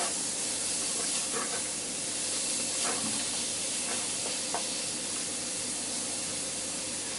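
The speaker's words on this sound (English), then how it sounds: "set that all down until the onions are transparent and the bacon starting to shrink back a bit and cook" Chopped onions and bacon frying in a pan give a steady, loud sizzling hiss that holds without a break, with small pops and crackles now and then and no voices.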